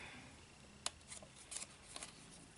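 Scissors snipping paper while shaping a snowflake heart rosette, a few quiet, separate crisp cuts spaced irregularly against a faint, quiet room.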